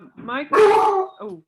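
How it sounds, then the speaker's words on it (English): A pet dog gives a few short whimpering, yipping vocalizations during an online meeting, a brief high-pitched whine followed by a louder bark-like cry, close and clear. "that's my dog."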